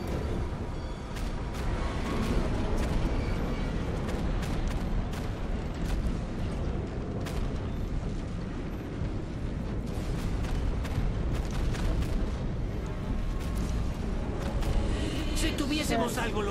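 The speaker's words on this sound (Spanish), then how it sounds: "Atención, explosión" A heavy rumbling explosion in Batman: Arkham Knight, with deep booming blasts and crackling debris over a continuous low roar, and a voice talking over it.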